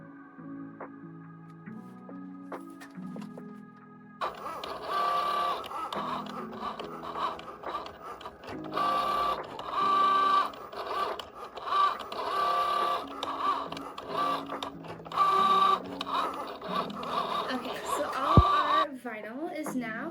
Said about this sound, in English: get this set up in our Cricut design studio, get it cut out